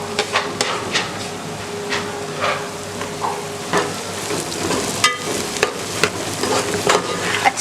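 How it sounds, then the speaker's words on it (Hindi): Fried leftover roti is tipped into a pan of sugar-ghee caramel syrup and stirred. Soft sizzling runs under repeated scraping and knocking of the spoon against the pan, up close and fairly loud. "अब मैं इसके अंदर फ्राई की हुई रोटी ऐड करूँगी।"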